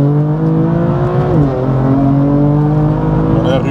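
BMW M4 GTS straight-six engine pulling hard under acceleration inside the cabin, a loud steady drone with rising harmonics, a brief dip near the middle, then continuing to climb.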